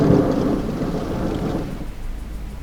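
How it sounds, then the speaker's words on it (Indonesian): Heavy rain roars steadily with a deep, rumbling thunder peal at the start that slowly fades, leaving dense rainfall. "Tiba-tiba hujan turun dengan lebatnya, beserta sambaran petir."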